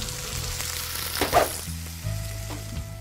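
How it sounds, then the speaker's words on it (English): Potatoes browning in olive oil in a hot pan, a steady soft sizzle running throughout with a brief louder burst of spattering near the middle; no voices. "My pan's nice and hot, so first I'm gonna add in some olive oil, then I can throw in my potatoes and let these brown."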